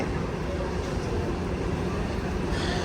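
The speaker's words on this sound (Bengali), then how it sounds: "এয়ারপোর্টের ট্রেন" Dense, loud rumble of an airport train moving, a steady low roar filling the space without clear voices.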